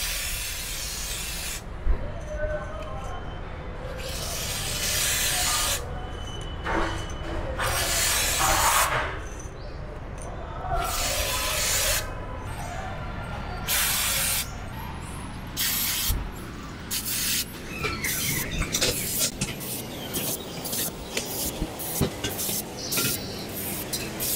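An aerosol of chain lubricant hisses in repeated bursts of varying length onto a Royal Enfield Continental GT 650's chain and sprocket, close up, with short pauses between sprays and some clatter later on.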